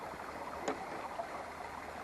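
A small stream flowing while fishing with a float line, a faint, steady babble and trickle of water heard up close, with one brief tap partway through.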